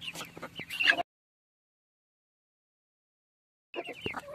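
Two desi hens in a small backyard coop cluck in short, close bursts, a busy flurry at the start, then a long silence before a second clucking burst.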